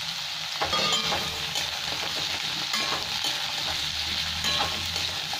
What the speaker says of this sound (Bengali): দিলে আলুটা ভাজা হয়ে যাবে।